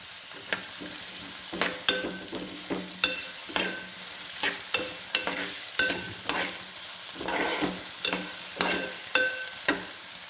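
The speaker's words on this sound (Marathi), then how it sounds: "चांगला हलवून द्यायचा कांदा मिरची" Onion and chilli fry in a pan under a steady sizzle while a spoon stirs and scrapes in regular, sharp strokes roughly every half second, close and clear.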